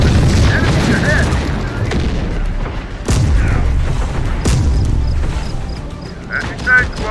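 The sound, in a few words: gunfire in the video game Terminator: Dark Fate – Defiance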